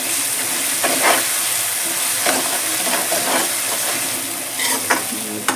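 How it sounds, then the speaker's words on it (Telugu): Ginger garlic paste frying with onions in a pan for a fenugreek-leaf mutton fry, a steady loud sizzle broken by several scraping stirs of a spatula. "మంచిగా అల్లం వెల్లుల్లి పేస్ట్ ఆ ఉల్లిపాయలలో బాగా ఫ్రై అవ్వాలి."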